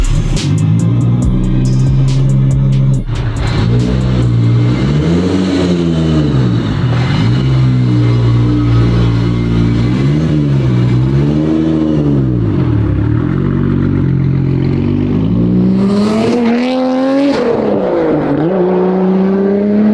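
A Nissan Skyline R34 GT-R engine revs hard in repeated rising and falling sweeps, then accelerates with a loud, sustained roar close by.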